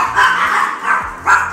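Small dogs bark in quick bursts, three or four sharp yappy barks close by, with a short pause between groups.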